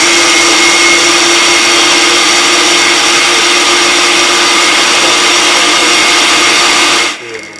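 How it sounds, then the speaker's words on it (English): A food processor runs at full power in a home kitchen, a loud, close, steady motor whir that holds for about seven seconds and then cuts off abruptly. "Now we'll put it in the food processor."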